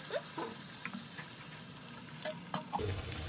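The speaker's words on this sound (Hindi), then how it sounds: "तो फ्रेंड देखिए अभी पुआ छानने वाला है" Pua batter fries gently in oil with a soft, quiet sizzle. Light ticks and scrapes from a spatula stir through it, with a few sharper clinks near the end.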